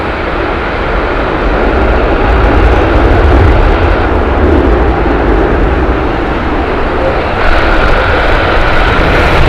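A British Airways airliner roars at Heathrow Airport on a very windy day, a loud, continuous broadband engine rumble that stays steady throughout with no voices.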